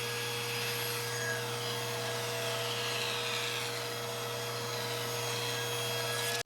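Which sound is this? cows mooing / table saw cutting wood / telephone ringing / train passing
table saw cutting wood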